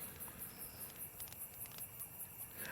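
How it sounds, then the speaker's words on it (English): Crickets chirp in a steady, faint, high pulsing pattern as a nighttime ambience for a medieval fan film scene, with no voices present. "You got the crickets, you got the crackling fire."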